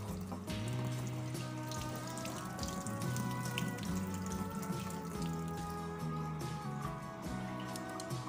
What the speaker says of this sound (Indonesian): Dan terakhir kita bilas kembali dengan air bersih sehingga kotorannya betul-betul habis.